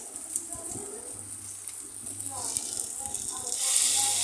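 Marinated chicken liver frying in a pan, a soft continuous sizzle and hiss that grows louder near the end, with a person talking over it.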